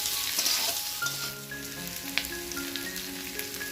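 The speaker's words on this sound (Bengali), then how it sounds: "এবার আমরা 2 মিনিট এটাকে ভালো করে কষে নেব।" Fried cauliflower and green peas sizzle and crackle in a hot pan as they are stirred for a poppy-seed curry, a busy close hiss with scattered spatula clinks and no talk.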